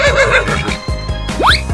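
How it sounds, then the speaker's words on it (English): A horse gives a loud, close neigh with a rising whinny in the middle, set within playful music and other sound effects. "Horse."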